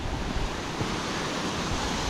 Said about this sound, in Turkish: Şimdi şelale şuradan geliyor.